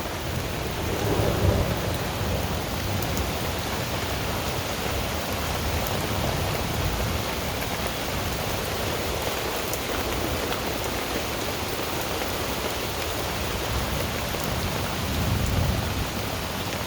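Steady heavy rain drums on a Cabela's Alaknak canvas tent while thunder rolls low underneath, swelling near the start and again toward the end, with no voices.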